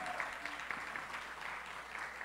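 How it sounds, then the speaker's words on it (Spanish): Steady applause from an audience at a urology symposium, a dense wash of clapping that holds at an even level throughout with no voices standing out. "El aplauso para el parejo, que se lo merece, por supuesto."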